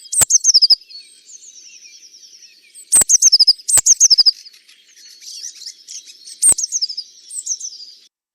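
Blue tit calls in a garden shrubbery: bursts of high, rapid chirps and trills repeat every second or two, clear and fairly near, with fainter twittering between them and no talk.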